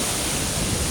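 Katibawasan waterfall in Camiguin pours with a strong, heavy flow, a loud continuous broadband roar of falling water close by, steady and unbroken with no voices.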